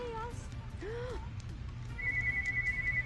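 A telephone rings in the soundtrack of the video game Sonic Adventure, with a steady electronic ringtone tone repeating over a low music bed, fairly faint and alone without talk.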